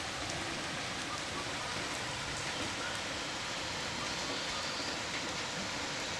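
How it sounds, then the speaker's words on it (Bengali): Rain falls at a village home as an even, faint hiss that holds steady with no distinct drops or voices standing out. "দেখেন কত সাধনার বৃষ্টি, আল্লাহর রহমতের বৃষ্টি।"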